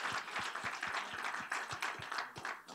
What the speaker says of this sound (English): let's give a round of applause to the speakers that we had today